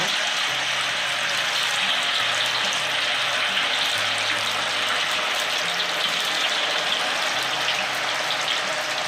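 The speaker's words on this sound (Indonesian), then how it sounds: "Ini minyak sudah panas ya. Kita goreng tahu dulu ya." Tofu fries in hot oil, a loud, dense, continuous sizzle and crackle that holds steady throughout, close up, with no break in the spitting hiss.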